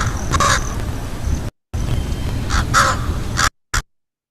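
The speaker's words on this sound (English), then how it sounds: "It's a crow, right?" A crow caws in a database recording: a few harsh, repeated calls in two bursts, close and loud over a steady background hiss, with brief dropouts cutting the sound.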